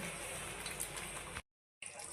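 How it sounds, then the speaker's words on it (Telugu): Water poured into a pan of egg curry, a steady broadband splashing pour that runs close and fairly loud for over a second, breaks off into silence, then resumes briefly. "కొంచెం వాటర్ వేసుకుంటున్నా"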